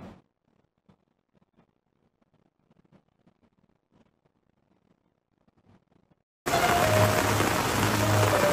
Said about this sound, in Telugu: వర్షంతో శ్రీవారి ఆలయ పరిసరాలతో పాటు చుట్టుపక్కల ప్రదేశాలు జలమయమయ్యాయి.